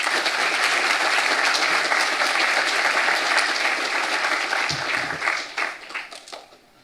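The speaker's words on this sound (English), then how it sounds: "Big round of applause for her" A graduation ceremony audience gives loud, sustained applause that fills the hall, then thins out and fades toward the end.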